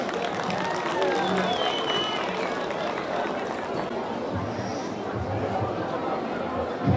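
Festival crowd applauding an arriving guest, a steady, dense wash of clapping mixed with crowd chatter that holds for several seconds at a moderate, distant level.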